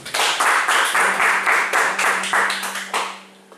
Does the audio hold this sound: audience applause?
yes